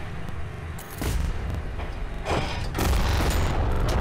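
Loud bursts of heavy automatic fire from a tank in a video game, with booming impacts, several rapid volleys in succession over a rumbling background.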